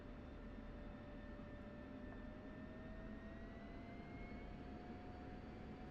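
An F-16 jet engine held at military power in a flight simulator: a steady, even roar with a high whining tone that slowly rises in pitch, continuous and unbroken, no voices.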